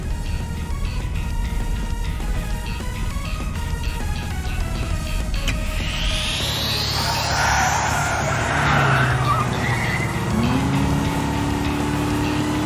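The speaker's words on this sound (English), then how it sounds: "Is that a turbocharger?" A turbocharged vehicle in the Trails through Daybreak video game: engine drone and whine under game music, then a sharp rising whoosh and long tire skid squeal, loud and close, with no talking.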